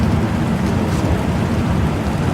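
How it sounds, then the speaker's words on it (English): Steady rain begins falling during an outdoor music show in New Jersey, a dense, even wash of drops and hiss running loud and unbroken throughout with no talk. "It just started raining."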